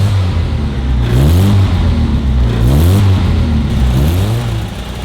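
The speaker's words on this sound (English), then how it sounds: "You listen to it at the back, that's got that RC40 exhaust on it" 1963 Mini Cooper 997 with an RC40 exhaust, engine revved in repeated rising blips, loud and close from the rear, each rev climbing then falling back to idle.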